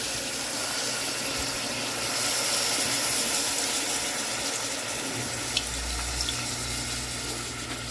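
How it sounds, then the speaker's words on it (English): Liquid from canned cream of mushrooms pours steadily into a pot, a continuous soft watery hiss lasting several seconds, close by and with no talking. "Now you're going to pour in the actual liquid from the cream of mushrooms"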